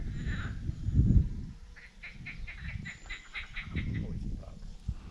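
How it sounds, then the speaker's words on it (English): Frogs croaking at a trout fishing water in May, a string of distant duck-like croaks heard over outdoor wind and handling noise. "It's not ducks, that's frogs."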